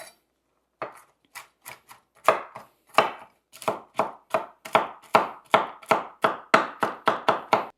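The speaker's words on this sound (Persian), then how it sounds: "برای این کار گردومون رو باید ریز ریز خوردش کنیم" Walnuts are chopped finely with a knife on a board for banana bread, a steady run of crisp close chops that starts sparse and settles into a quick even rhythm, with no talk.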